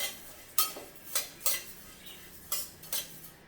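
A spoon scrapes and taps in a pan as spices are dry roasted on low flame for red chilli pickle, with about six soft evenly spaced strokes, faint and close, no voices.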